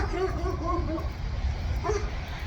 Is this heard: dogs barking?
yes